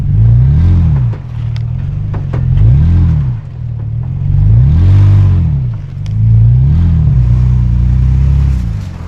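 A truck engine drives along an icy track, a loud close rumbling drone that swells and dips in repeated waves as it labours, with no voices.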